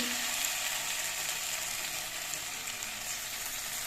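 Drumstick flowers frying in oil with a paste of mustard and poppy seeds, a steady close hiss and sizzle running unbroken throughout with faint stirring underneath.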